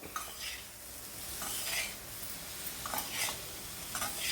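Ridge gourd curry with chana dal and atta being stirred in a pan after coriander goes in, a soft sizzle underneath repeated scraping strokes of a spoon about once a second, close and steady, with no voices.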